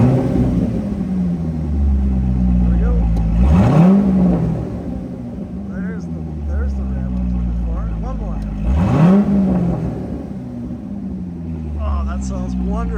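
A 2010 Corvette Grand Sport convertible with a manual transmission revs up twice, rising in pitch with a deep throaty roar before settling back to a rumbling idle; a voice talks briefly.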